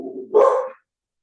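A dog gives one loud, close bark lasting under a second, with silence after and no voices.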